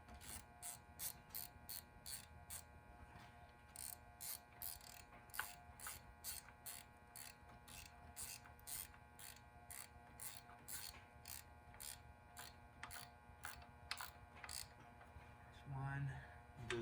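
A Snap-on ratchet tightening bolts on a throttle body clicks in rapid bursts of repeated ticks, pausing and resuming several times at close range, with a short clank near the end.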